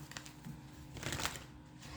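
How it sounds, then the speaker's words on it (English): Tarot cards shuffled by hand in a few quiet riffling bursts, with the densest flurry near the middle, soft and close with no one speaking. "One more shuffle."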